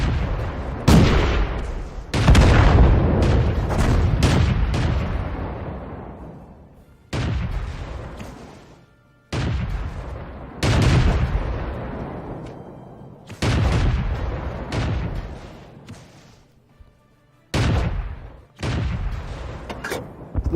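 M41 HMC self-propelled gun firing in a tank video game: a series of heavy booming shots spaced a few seconds apart, each with a long decaying rumble, loud and close.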